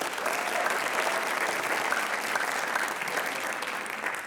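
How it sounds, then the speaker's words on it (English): A school audience at a writers expo gives a student a sustained round of applause, dense and even for over four seconds, with a few faint whistles or cheers mixed in. "round of applause for Victoria first."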